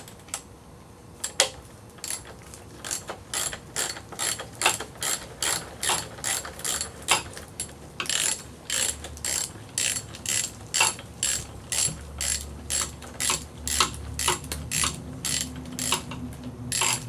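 A ratchet snugs bolts during timing belt work on an Audi A4 B5 1.8T, its clicks coming in steady bursts of quick pawl ticks, close and crisp, repeating for many strokes.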